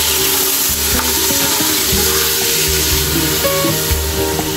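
Mutton frying loudly in oil with light golden-brown garlic, a dense continuous sizzle and crackle close up, with occasional stirring scrapes and no talking.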